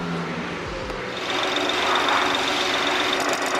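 A BMW 640i GT with a B46/B48/B58-family engine idles roughly on two misfiring cylinders, a steady close-up mechanical drone with an uneven, ticking knock and no talking.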